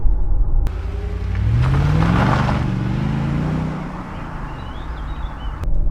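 A Mercedes C43, rear-wheel drive with heavy torque, revving hard on the move, its engine note sweeping upward then settling into a steady drone, heard loud from inside the car.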